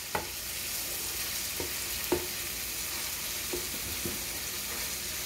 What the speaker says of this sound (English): Just stir.